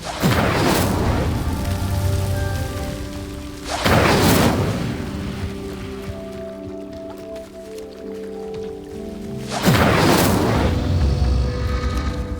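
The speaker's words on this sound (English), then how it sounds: "Incendio. Merlin's beard! The flames make the pyre sink." A stone pyre in the video game Hogwarts Legacy grinding and sinking after being lit with the Incendio spell: three heavy booming whooshes with rumbling tails, separated by a lingering low hum and ringing tones.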